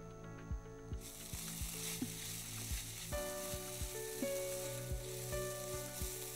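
Kachori filling sizzling steadily in a pan after a spoonful of Schezwan sauce goes in, with scraping stirs and occasional utensil clinks over the constant frying hiss.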